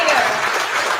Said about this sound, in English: Let's give another round of applause for the Lincoln High